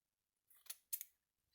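Scissors snip through a small piece of mesh at a craft table, two or three short crisp cuts in close succession, near and clear with no talking.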